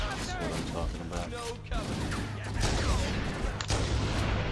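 Sniper rifle shots ring out in Halo MCC, several sharp reports mixed with game explosions and busy action noise, while a player talks loudly over them.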